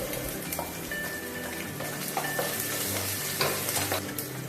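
Ginger sizzles steadily in a hot pan while a utensil stirs it, the frying hiss dense and continuous with scraping strokes and small crackles throughout, close and moderately loud.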